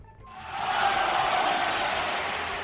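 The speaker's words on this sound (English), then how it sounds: "Nuria, can we get a round of applause for Nuria?" A small group applauds a participant, a steady wash of clapping that swells in quickly after a brief quiet start and holds fairly evenly to the end.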